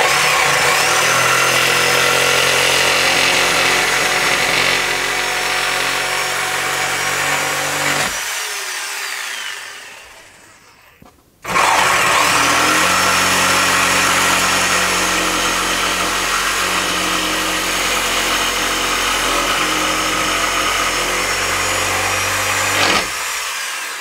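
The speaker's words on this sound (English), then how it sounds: "hopefully the sound of the power tools don't wake her up" A power tool whines loudly as it cuts through desk legs, stops briefly halfway through, then starts up again and keeps cutting steadily.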